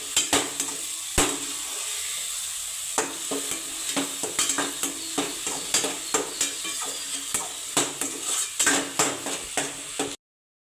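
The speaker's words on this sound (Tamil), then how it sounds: "அரைச்சி வச்சு தக்காளி பேஸ்ட் நல்லா வதக்கிக்கணும்" Tomato paste being sautéed in a pan for mutton kuzhambu, with a steady soft sizzle and repeated sharp clinks and scrapes of a spoon stirring against the pan, close by.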